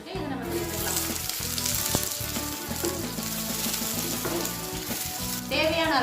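Long-sliced onions hit hot oil that already holds mustard seeds, giving a loud, steady, close sizzle of frying throughout, with a brief stirring scrape near the end and no talking.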